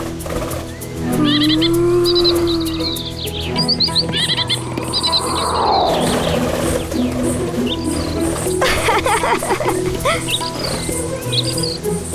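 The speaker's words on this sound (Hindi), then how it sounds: "इतने सुंदर पक्षी।" Birdsong with chirps and tweets over a steady background of crickets or insects, part of a mythological Hanuman drama scene; the calls come in bursts throughout, with a whooshing swell in the middle.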